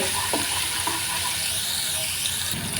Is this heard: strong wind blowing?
no